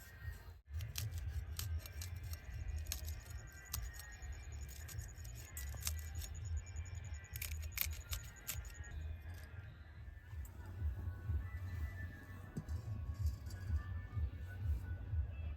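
A knife thinly slicing green chillies: quiet, close, rapid crisp cuts repeating in steady bursts, with a short pause in the middle.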